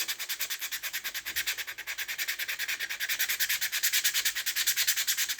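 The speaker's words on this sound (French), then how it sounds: "On va prendre la toile émerie." Emery cloth is rubbed briskly back and forth on a metal engine casing, aluminium or zamak, making a loud, rhythmic scratchy sanding sound with about five strokes per second that continues steadily throughout.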